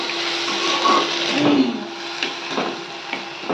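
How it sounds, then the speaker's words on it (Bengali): Water goes into a cooking pot of taro and prawn curry, making a steady watery rush with a faint hum underneath and a few soft knocks and splashes. "কিছুটা জল দিয়ে দিলাম আরও সুন্দরভাবে সিদ্ধ হয়ে যাবে"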